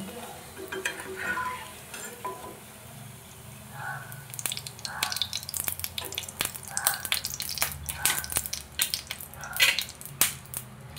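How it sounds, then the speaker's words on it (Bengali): Kachori made with yardlong beans deep-fries in oil on a low-to-medium flame, a steady soft sizzle broken by repeated scraping and turning stirs, close and moderately quiet. "আস্তে আস্তে করে ভেজে নেব, উল্টে পাল্টে খুব ভালোভাবে ভেজে নেব"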